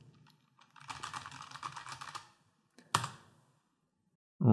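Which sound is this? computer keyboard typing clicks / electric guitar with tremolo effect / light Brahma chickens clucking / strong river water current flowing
computer keyboard typing clicks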